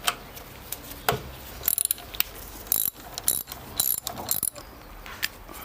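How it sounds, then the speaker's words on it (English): A ratchet loosening a 10mm bolt on a Fiat Punto MK2 engine, with rapid clicking bursts of the pawl close up, irregular strokes broken by short pauses and the clink of metal. "Remove this 10mm bolt over here."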